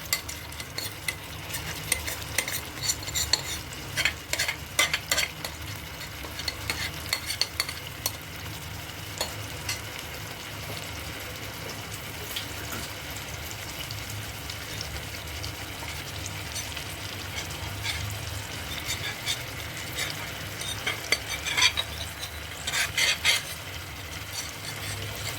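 Mutton coated in masala frying in a pan, sizzling steadily while a spoon stirs and scrapes through it in repeated strokes, close and fairly loud with no talking.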